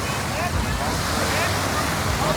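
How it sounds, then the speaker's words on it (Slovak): Ocean waves washing onto a sandy beach on Ko Lan island near Pattaya, a steady broadband surf roar with some wind, continuous and fairly loud throughout. "Toto je tá pravá pláž."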